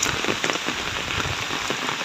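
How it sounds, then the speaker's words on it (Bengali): Heavy rain pours down steadily and close, a dense, unbroken patter of drops drumming on surfaces with no other sounds above it. "কি পরিমাণ বৃষ্টি হচ্ছে এলাকায়"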